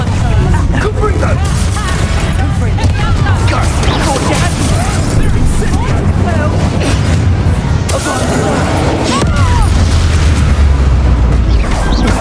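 Booming fire-spell blasts of Confringo in Hogwarts Legacy sound heavy and continuous amid a loud combat mix, with spoken voices over the explosions.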